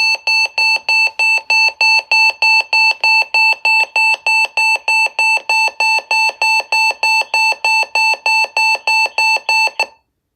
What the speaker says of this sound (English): This is going to be the beep siren because the last alert I got on it was a weekly test.